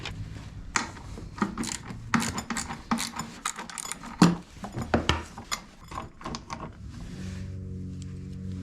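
Ratcheting wrench work removing the upper bolts of a diverter valve kit on a John Deere 1025R compact tractor: a run of quick metallic clicks and clatters, close and fairly loud, ending in a steady mechanical hum.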